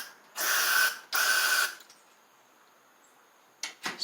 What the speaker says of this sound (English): I'm going to spray a little bit of carb spray into that jet.